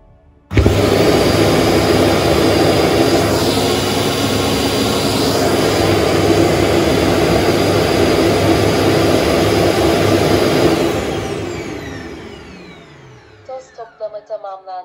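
A Neabot Nomo Q11 robot vacuum dock empties the dust bin with a sudden, very loud, jet-like roar that holds for about ten seconds, then winds down. A few faint clicks and a brief voice prompt follow.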